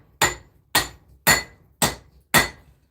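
Cross peen hammer forging a railroad spike knife, five sharp metallic strikes evenly spaced about half a second apart, each ringing briefly with a bright clink before the next blow, close and loud with no talk.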